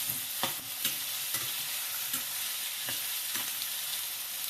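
Ridge gourd pieces fry in a pan with a steady, dense sizzle close by, punctuated by regular soft knocks of stirring roughly every half second, with no voices.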